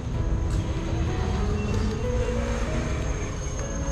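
Mysuru–Kacheguda superfast express train at Doddaballapura station, heard as a steady, loud rumble and rattle of rolling coaches with a faint high whine, continuous throughout and without talk.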